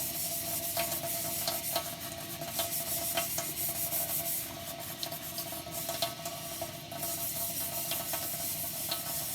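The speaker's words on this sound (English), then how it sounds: "Take a bit of water and just give that an all over rub" A cup is rubbed all over with water and a fine sanding pad, making a steady, close, wet rasping scrub that runs continuously at low level with no talk.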